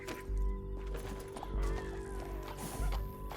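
Horse hooves thud and clip-clop over a steady hum in Red Dead Redemption 2, with a whinny and scattered game sound effects mixed in.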